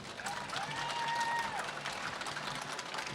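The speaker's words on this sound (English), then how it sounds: "Round of applause, guys." Audience applause at a convention stage, a continuous wash of crowd clapping with a faint whistle-like cheer on top, steady and moderately distant for about three seconds.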